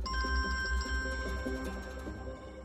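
A telephone ringing indoors during a Turkish drama scene, its steady electronic ring tones repeating at a moderate level over a low room hum, with no talking.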